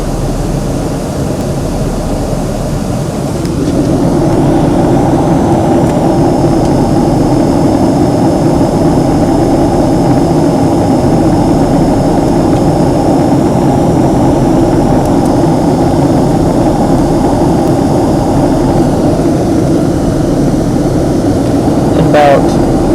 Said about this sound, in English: this will be the landing video of Southwest Airlines Flight 434 from Dallas to Chicago Midway